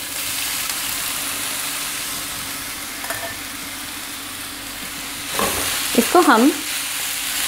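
Grated potatoes fry in ghee or melted butter over medium heat for hash browns, a steady sizzle with scraping stirs that swell louder near the end, while a voice speaks briefly over the cooking.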